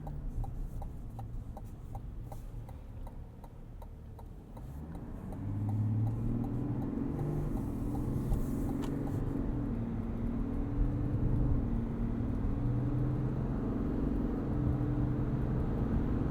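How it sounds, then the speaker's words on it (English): A 2021 GMC Yukon Denali's inline-six Duramax diesel hums steadily from inside the cabin while driving, with a light ticking early on, then a deeper, fuller engine drone that swells and holds as the vehicle accelerates. "This inline-six Duramax sounds fun."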